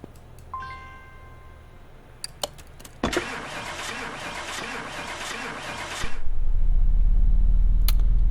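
A car engine in the video game Car Mechanic Simulator 2018 cranks and catches, then settles into a steady loud idle with a low rumble, after a few faint clicks and a burst of broadband noise.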